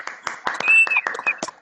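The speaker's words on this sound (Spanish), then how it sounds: "si podemos abrir todos los micrófonos para darles un aplauso" Scattered clapping from several people with open microphones on a video call of a reading club, uneven and close, with a brief tonal squeal or feedback in the middle and a voice faintly mixed in.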